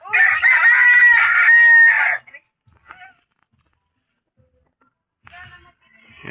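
A rooster crows loudly and close at a backyard chicken coop among fighting cocks and corn, followed by quiet gaps with scattered soft clucks and another brief crow near the end.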